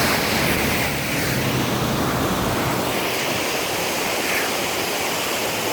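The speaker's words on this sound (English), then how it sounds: "The water is now calm as normal." River water flows in a steady, continuous rush outdoors in Springfield, Vermont, close and fairly loud with no voices.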